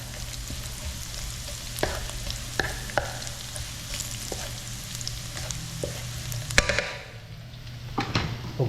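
Garlic and ginger sizzling in hot oil in a pan, a steady close crackle broken by several sharp knocks and scrapes of stirring, ending with a brief quieter stretch.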